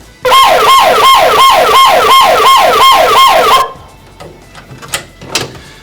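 A loud electronic school lockdown alarm wails in rapid repeating up-down sweeps imitating a police siren, then cuts off abruptly, leaving faint clicks and bumps.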